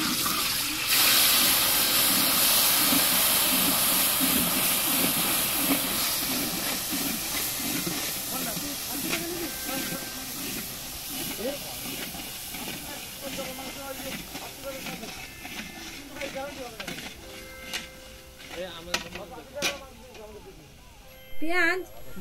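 Onion paste hits hot oil with cumin, bay leaf and whole garam masala in a wok for doi katla, giving a loud sizzling hiss that gradually settles into softer crackling, with scattered clinks and a voice speaking over it.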